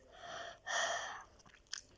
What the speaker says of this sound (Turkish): Böyle derin nefes alıyorum arkadaşlar.